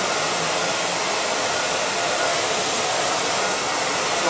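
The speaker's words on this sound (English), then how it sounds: "So that's the kind of control you need when you're blowing hair dry." A hair dryer blows steadily and loudly up close while hair is brushed dry in a salon, a continuous broadband whoosh with no breaks and no talking.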